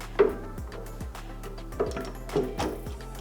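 A few hard knocks and clunks as a bed rail framework for a height-adjustable Step2Bed rail is set into corner holes, in close, fairly sharp impacts spaced over a few seconds.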